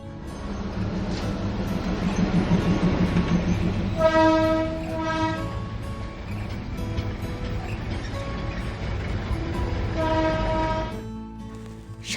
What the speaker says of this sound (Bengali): সামনে দিয়ে যখন টয় ট্রেনটা গেল